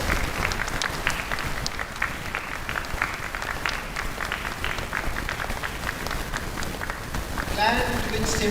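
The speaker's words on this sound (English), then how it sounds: "I request the audience to please join with us with a big round of applause." An audience at a university event in India claps in a sustained, dense round of applause, loud and close, with a voice starting to speak near the end.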